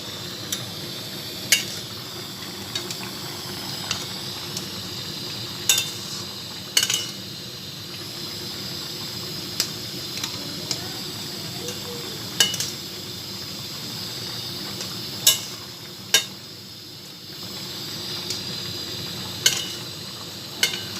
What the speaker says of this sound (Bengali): দিয়ে একটু ভালো করে নেড়ে দেওয়া হচ্ছে।